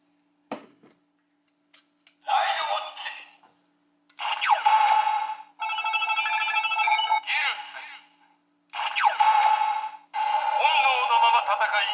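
A Ridewatch transformation toy plays electronic sounds in bursts: chirpy synthesized effects and buzzing tones separated by short pauses, loud and close.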